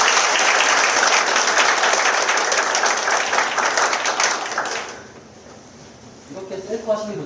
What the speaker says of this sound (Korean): 여러분들 우승우 감독님께 큰 박수 부탁드립니다